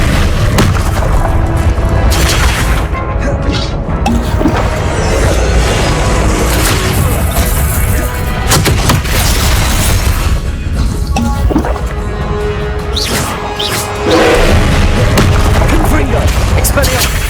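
Repeated spell blasts from the Confringo explosive curse in Hogwarts Legacy, booming whacks and crashes layered over dense game music and effects, loud and continuous with several sharp hits throughout.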